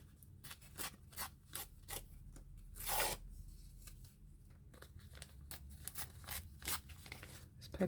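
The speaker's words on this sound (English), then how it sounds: "This paper tears a bit strange." Paper being torn by hand for a vintage Christmas collage book, a series of short, quiet ripping and rustling strokes with one longer tear partway through, close up and without speech.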